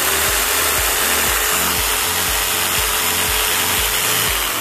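Bosch GST 80 PBE jigsaw running with its blade reciprocating, a loud continuous motor whine with an even rapid pulsing stroke rhythm, close and alone.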